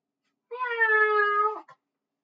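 A cat gives a single drawn-out meow, clear and close, lasting about a second with a brief trailing chirp at the end, then silence.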